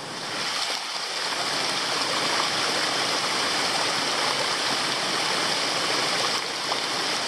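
McGowans Falls, a waterfall in Tasmania, roars in a steady, dense broadband wash of falling water, close and constant with no voices.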